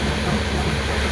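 Sayan Express train running at speed through Nadia district: dense, steady roar of wheels and rushing air, close and loud for a brief stretch, with no talk.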